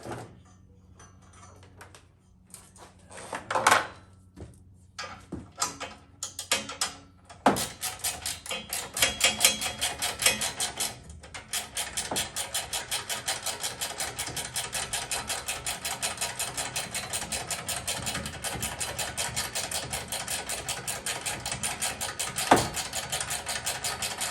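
Bolts being removed from a Nissan 350Z front crash bar, heard as close, brisk rapid clicking and ratcheting that starts in short sparse bursts, then runs almost continuously with a sharp knock near the end.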